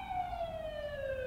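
An ambulance siren in The Coma: Recut video game wails steadily and loudly with a slowly falling pitch, heard alone without any talk.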